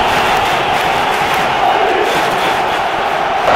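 Crowd noise from a football match in the PS2 game Bomba Patch, a steady, loud wash of stadium cheering and chanting that holds throughout without pause.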